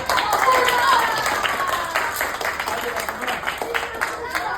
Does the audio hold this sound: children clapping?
yes